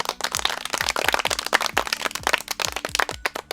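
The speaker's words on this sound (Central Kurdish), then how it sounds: "یەک چەپڵەی بەهێز بۆ خۆتان" A group of children in a Kurdish village claps loudly and vigorously together, a dense run of sharp, close handclaps sustained throughout.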